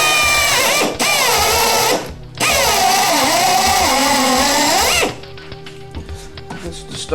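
A drill bores a starter hole for a jigsaw cut in a jet boat steering relocation install, whining loudly in two bursts with a short pause, then spinning down into quieter clatter.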